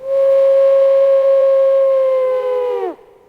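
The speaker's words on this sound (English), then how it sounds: "Wolves howl at the moon." A wolf howls in a single long, steady, loud tone that falls away sharply at the end, heard alone without talk.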